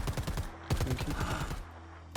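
Rapid bursts of gunfire crackle in quick succession in Predator: Hunting Grounds, loud and close, with brief pauses between volleys against a busy background.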